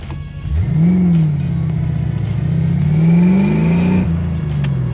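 A Ford Foxbody Mustang with a manual gearbox revs hard from inside the car. The engine drone rises, dips at a gear change, then climbs again, loud and up close throughout.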